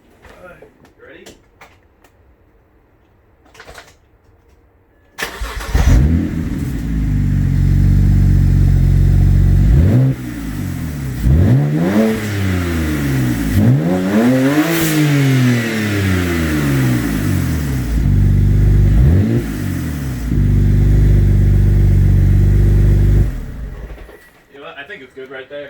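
A 2007 BMW 335i E90 with an N54 engine, catless downpipes fitted and the exhaust disconnected, cranks and starts loudly after a brief quiet stretch. It then roars through several sharp rev sweeps at close range before shutting off.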